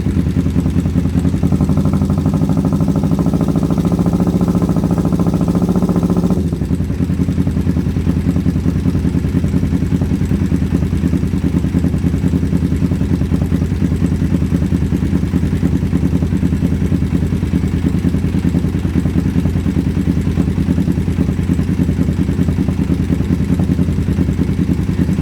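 Motorcycle engine running steadily during carburetor balancing, a loud close mechanical drone with clattering texture, briefly raised and rougher when the throttle is pushed early on, then settling into an even high idle throughout.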